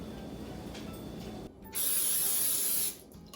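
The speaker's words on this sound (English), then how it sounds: "I'm gonna be spraying my tray, you're gonna spray yours." A short, loud cooking spray hisses onto a baking tray for about a second, preceded by faint kitchen noise and a brief quiet pause.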